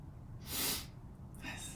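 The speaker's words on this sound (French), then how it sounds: "quand j'éternue, c'est 22 fois" A single sneeze bursts out with a sharp, bright hiss and breath, followed by a fainter breathy snort, close and alone over a quiet background.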